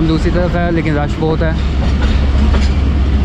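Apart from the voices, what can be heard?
train arriving at Faisalabad railway station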